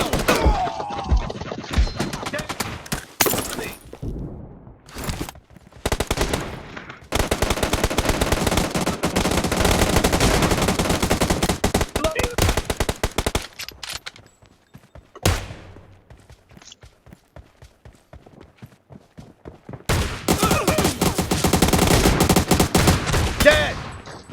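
Rapid bursts of shotgun fire from a video game shooter, loud and dense, in long sustained stretches broken by short quiet gaps, with heavy thuds mixed in and no voices.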